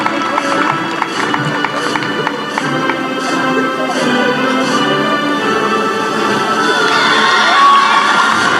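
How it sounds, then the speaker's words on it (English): Crowd cheering and shouting at a Scarborough RC school graduation ceremony, a dense, steady roar of voices with children's shouts and whoops that swells a little toward the end, with applause indistinct beneath it. "Applause, applause, applause."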